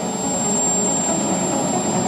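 A jet plane's engine roars loud and steady as it comes in to land at an air show during a duel, a constant heavy whine with a thin high tone throughout, no talk.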